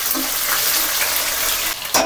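Chopped onion frying in a pan for a crab and prawn masala, a steady broadband sizzle that holds throughout, with a brief clatter near the end; no one speaks.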